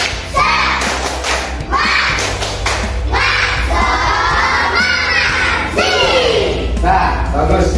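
A class of elementary schoolchildren at SD Taman Jaya claps a rhythmic spirit clap together, loud and close, with bursts of group chanting and shouted voices over the beats.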